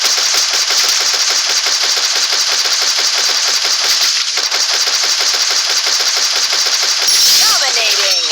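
Rapid automatic gunfire rattles nonstop and loud in the Free Fire mobile battle game, dense bursts running throughout with a brief whooshing effect near the end.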